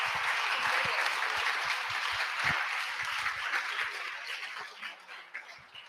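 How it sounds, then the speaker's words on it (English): Audience applause for the presenters at a TeachMeet event for modern foreign language teachers: dense, sustained clapping from a room full of people that fades slightly toward the end, with a few individual claps standing out. "Can I just ask everyone to give a big round of applause to all of our presenters today?"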